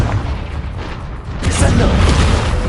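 Confringo blasting spell cast in Hogwarts Legacy, a loud booming burst that erupts midway after a quieter rumbling lead-in, with a voice speaking over the combat.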